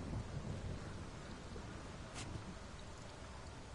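A thunderstorm in Ghost of Tsushima, a low rumble of wind and steady rain with one brief, crisp crack partway through, heard alone and at moderate loudness.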